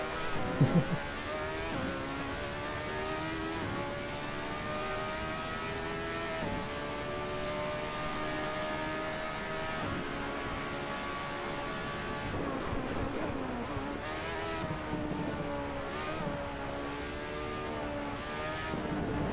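Race car engine in the Assetto Corsa driving game revs up and down through gear changes over a lap, with a continuous but fairly quiet whine and no talking.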